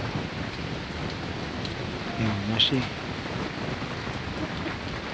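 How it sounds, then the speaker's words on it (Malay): Light drizzle falls on wet ground where chickens are foraging, a steady soft hiss running through the whole stretch while a voice speaks over it. "Tanah masih dalam keadaan basah dan masih hujan rintik-rintik"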